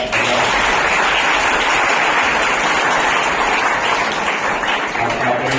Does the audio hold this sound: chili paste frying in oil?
no